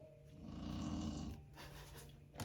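Soft snoring in the background, a couple of slow rasping breaths, faint and a little distant, with no talking over them.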